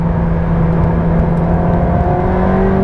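A Ferrari 360 Challenge Stradale engine drives along a mountain road, a loud, steady, close mechanical drone with rising harmonic tones as the revs climb, heard alone without voices.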